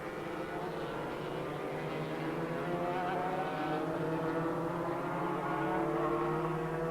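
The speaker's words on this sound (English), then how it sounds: "as they thunder down the fastest part of the track, downhill, down into the village, past the speed trap" Racing motorcycles at the 1991 North West 200 road race thunder down the fastest downhill stretch into a village past the speed trap, a loud continuous engine roar sustained throughout with no voices.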